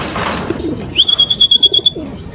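Racing pigeons coo close by in a short run of soft, pulsing calls, preceded by a brief rustle and a thin high whistle-like tone.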